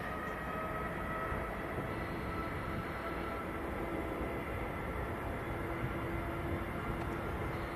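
A TUI Boeing 787 Dreamliner bound for Rhodes takes off at Manchester Airport, heard as a steady, distant low engine roar that stays constant throughout, with no talking.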